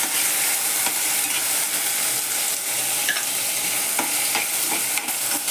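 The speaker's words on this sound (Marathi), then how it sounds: "आधी मटार परतून घ्यायचे चांगलं." Frozen peas stir-fried in hot oil with cumin, mustard seeds and curry leaves for samosa filling, a steady close crackling sizzle with a few scraping stirs, no voices.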